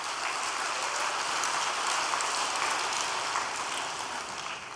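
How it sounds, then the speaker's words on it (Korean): Steady applause from an audience at a Korean gathering honoring a completed painting, a continuous even wash of clapping heard at a moderate distance, with no talk over it. "박수 부탁드리겠습니다"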